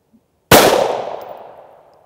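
A single sharp report from a CCI 9mm shotshell being fired, close and loud after a moment of silence, then a ringing decay that trails off over about a second and a half.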